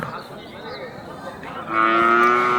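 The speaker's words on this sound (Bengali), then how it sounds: "এই গরুগুলো সীমান্ত এলাকার গরু আর বিভিন্ন গ্রামের গরু" Cattle lowing at a busy livestock market in a village near the India–Bangladesh border, with a loud, sustained moo rising near the end over background crowd noise.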